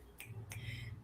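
Two crisp finger snaps, quick and close together, over a low hum in a quiet room during an online open mic poetry session.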